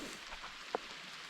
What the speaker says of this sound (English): I think this rain's in for the rest of the ride.